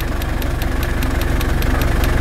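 A Mitsubishi Delica L400 van's 4M40 diesel engine idles with a steady, even knocking beat, loud and close, with no voices over it.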